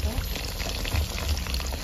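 Steady crackling sizzle of chicken wings frying in hot oil, dense and continuous, with a low rumbling undertone throughout.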